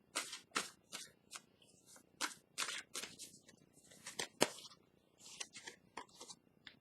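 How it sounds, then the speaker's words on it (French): Tarot cards are shuffled and drawn close up in a quiet room. Crisp riffling slaps and flicks come in irregular bursts, with brief pauses between them. "Là, je vais piger une carte messager de l'univers."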